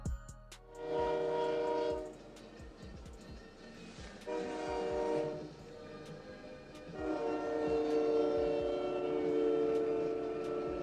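A train horn blares in three long sustained blasts as the train nears a railroad crossing where a truck is pulling away, loud and close, with the rumble of the train beneath and no talk.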